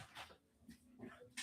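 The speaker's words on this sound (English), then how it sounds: "I think the dog's gotta go out." An older dog whimpers indoors to be let outside, a few soft, high whines and yips in short bursts, fairly faint and close.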